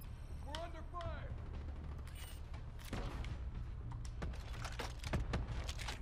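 Gunfire in the video game Black Ops 3 cracks in scattered sharp shots and short bursts over a low game rumble, with brief chatter and keyboard clicks mixed in.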